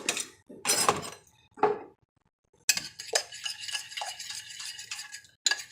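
Spoon clinking and scraping in a bowl while salsa and Ragu sauce are stirred into a dip, in short bursts separated by brief pauses, close and clear.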